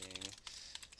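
Computer keyboard typing, a quick run of close, crisp key clicks over about a second, with a brief voice at the start before the tapping continues alone.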